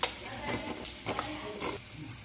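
Chili powder fries gently in oil for a macaroni pasta dish: a soft, close sizzle broken by a few scraping stirs of a spoon against the pan.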